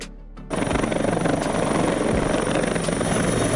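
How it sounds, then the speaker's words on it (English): A firefighting helicopter, the kind that carries large water tanks over wildfires, starts with a sudden loud onset after a brief quiet moment, then gives a steady, dense rotor and engine roar up close. "Firefighting Helicopter"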